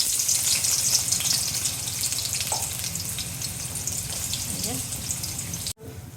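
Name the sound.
chopped onions frying in hot oil in a wok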